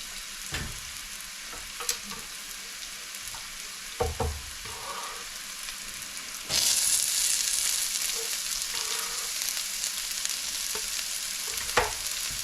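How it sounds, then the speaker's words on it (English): Onions added to a hot pan where salmon is pan-searing with mushrooms, giving a steady sizzle with a few clicks and scrapes, then a sudden louder, fuller hiss as the onions go in, continuing strong and close without talk. "let's get our onions and put our onions in there and let those start cooking"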